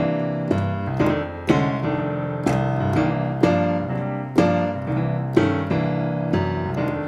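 Blues piano chords with added jazzy extensions ring out one after another in a steady rhythm, each struck chord bright and full, played alone with no talking.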